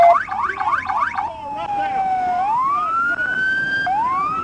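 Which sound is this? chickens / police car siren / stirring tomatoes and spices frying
police car siren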